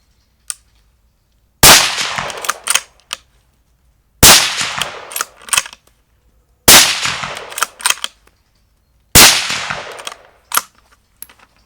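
A Sabatti rifle fires four loud, sharp shots at roughly two-and-a-half-second intervals, each with a ringing decay and a few metallic clicks of the action being cycled between rounds.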